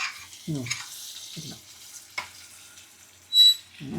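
Ridge gourd and egg stirred in a hot frying pan, with a soft continuous sizzle and a few distinct scraping strokes of a spoon near the start and end, plus a brief clink partway through.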